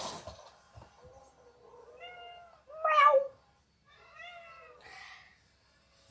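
A pet cat named Steve meows several times alone indoors, a short call followed by a louder drawn-out meow, then a couple of softer rising cries with quiet gaps between.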